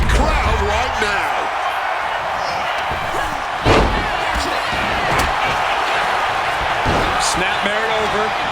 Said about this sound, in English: will you just listen to the crowd right now?